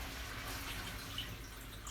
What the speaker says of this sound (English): And then I'm adding a couple of cups of water.